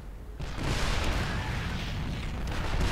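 Siege tanks in StarCraft 2 unloading a continuous barrage of booming, rumbling artillery fire that starts abruptly and holds loud and dense throughout.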